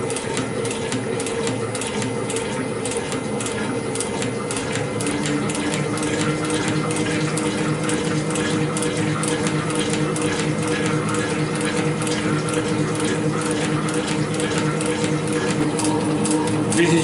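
Metal lathe taking a finishing pass with a diamond tool while making a hammer, a steady mechanical whir with rapid regular ticking and clattering throughout, moderately loud and unbroken.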